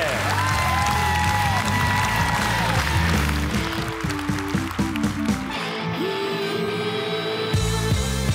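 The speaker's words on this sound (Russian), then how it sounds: "Аплодисменты!" Applause and cheering from a comedy club audience as performers are introduced, mixed under loud stage music with punchy beats and tones, the crowd noise steady beneath the music for around eight seconds.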